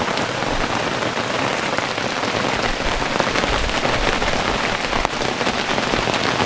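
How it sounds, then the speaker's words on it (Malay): Heavy rain pours steadily on a hillside at Bukit Limau, a loud, dense, unbroken hiss of drops pattering on surfaces, with no talking. "Tunjuk korang berapa lebat sebenarnya hujan ni."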